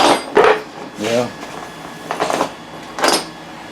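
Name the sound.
metal drill bits dropped on the floor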